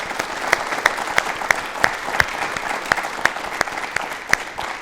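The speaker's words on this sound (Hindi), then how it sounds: "एक बार तालियां मैम के लिए जोरदार हो जाएं।" A studio audience claps in a steady, moderately loud burst, with individual sharp claps standing out against the even wash of applause throughout.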